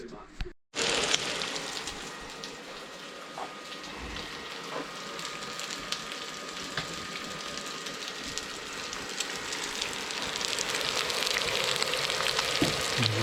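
Lamb cutlets sizzle steadily on a small induction cooktop, a continuous frying hiss that swells slightly toward the end, with faint background noise and a brief thump near the start.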